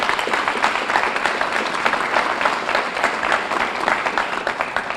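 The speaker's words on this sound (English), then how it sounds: "Perhaps a round of applause for families and children as well" An audience applauds at a scholarship ceremony, honouring families and children: sustained, dense clapping from a sizeable crowd, loud and steady from start to finish with no talking.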